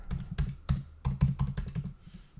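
Typing on a computer keyboard, a close burst of quick irregular key clicks entering a number, loud and alone before trailing off.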